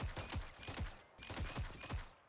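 Repeated Iron Man style energy beam blasts fired in the Roblox game War Machines, a rapid rhythmic series of sharp zapping bursts in two volleys, loud and close with no talk.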